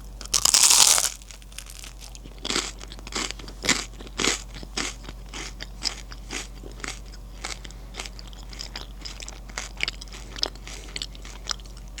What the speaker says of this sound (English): Last few bites of toast here.